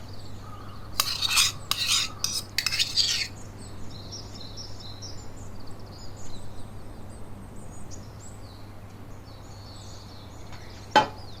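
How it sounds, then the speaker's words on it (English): A knife spreads garlic butter over bread for cheesy garlic bread, making a few short scraping strokes early on, then quiet, with faint birdsong in the background and a sharp click near the end. "Spread the reserved garlic butter on top."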